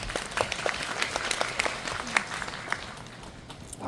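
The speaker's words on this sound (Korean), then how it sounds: "박수는 이렇게 박수를 계속 쳐주시면 이야기 흐름이 끊기니까" An audience at a film talk event for Bugonia claps continuously, a dense steady wash of many hands at moderate level with some sharper individual claps standing out near the front.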